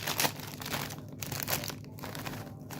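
Tomato-flavoured snack bag being torn open, a close run of sharp crinkling and crunching plastic in quick bursts, fairly quiet.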